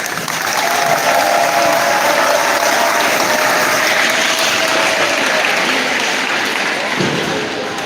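A school gym crowd at a homecoming assembly applauds Hall of Fame members, loud, dense clapping that holds steady for about eight seconds with some voices mixed in.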